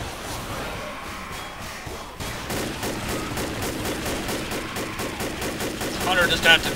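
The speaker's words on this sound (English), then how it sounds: "You're shooting me." Gunfire in the zombie shooter Left 4 Dead, rapid repeated shots in a steady rattling stream, building to a louder burst near the end, with players talking over it.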